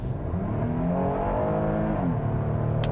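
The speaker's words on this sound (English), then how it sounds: "the engine makes a decent noise when pushed" V6 engine of a 2017 Hyundai Santa Fe Limited family crossover revving hard under acceleration, a loud, steady rising drone from inside the cabin that dips briefly with a gear change and then climbs again, with no talking.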